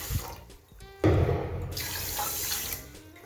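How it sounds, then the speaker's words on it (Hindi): Water poured from a tap into a pot for sugar syrup, a sudden loud gushing splash that runs steadily for about two seconds before thinning out. "2 कटोरी पानी की डालेंगे।"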